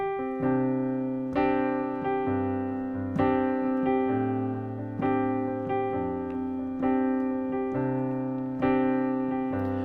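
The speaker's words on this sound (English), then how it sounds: "So familiarize yourselves with suspended chords" Piano suspended chords ring out in a steady pulse, each struck chord sustaining and overlapping into the next, with bass notes shifting beneath; no voices.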